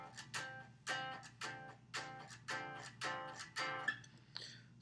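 Jazz guitar comps, strumming swing chords on steady quarter notes: about eight even, crisp strums with short decays, played quietly and close with no voice.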